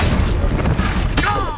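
A Bombarda spell explodes in Hogwarts Legacy, a loud booming blast with a sharp crackling burst near the end, heard up close across the whole moment.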